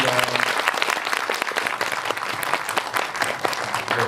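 An audience applauds at the close of a Korean film event, with dense, sustained clapping that stays loud and even throughout and a faint murmur of voices underneath.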